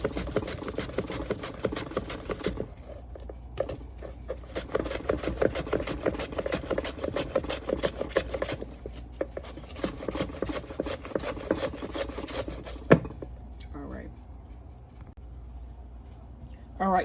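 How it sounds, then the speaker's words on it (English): Onion run across a kitchen slicer for thin slices, rapid rhythmic rasping strokes close up, steady for several seconds before slowing, with a voice heard faintly at times. "I'm just gonna take an onion and run it across my slicer, and I want thin slices."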